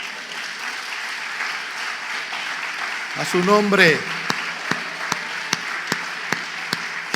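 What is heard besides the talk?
church congregation applauding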